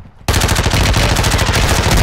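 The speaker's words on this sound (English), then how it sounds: "People shooting on the beach." Dense, loud video-game gunfire from people shooting on a beach: after a brief quiet start, rapid automatic bursts and overlapping shots roar continuously to the end.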